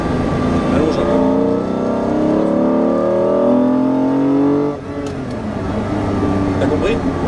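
An old car pulls hard after a shift into second gear, its engine rising steadily in a loud, close, rasping drone before easing off. Voices talk over it.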